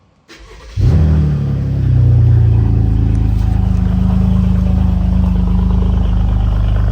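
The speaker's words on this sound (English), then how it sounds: "So now we'll see if this thing will start." A car with a newly replaced battery cranks briefly, then catches and fires up, settling into a loud, steady running engine close by with no talking.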